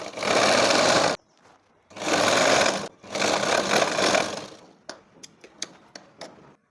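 An electric sewing machine stitches a folded hem in three fast, loud whirring bursts, then slows to a string of separate clicking needle strokes before stopping.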